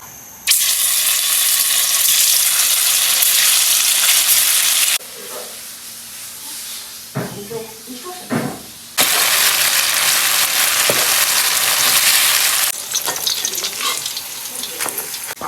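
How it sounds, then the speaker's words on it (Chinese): Tofu fries in hot oil in a pan, a loud, close crackling sizzle that surges in two long bursts separated by a quieter stretch of clattering and pan noises. "锅中加点油，把这个豆腐煎一下。"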